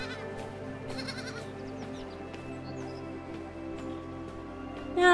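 Sheep bleating in a video game about a sheep whose body grows cotton candy instead of wool, repeated wavering bleats at moderate distance over a steady game soundscape and music.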